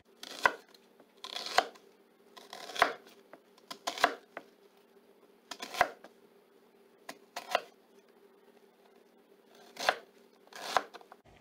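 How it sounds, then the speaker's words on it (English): Knife dicing half an onion on a cutting board in a home kitchen, irregular crisp chops spaced a second or two apart, close and quiet, with no talking. "So I'm going to go ahead first and dice up the onion."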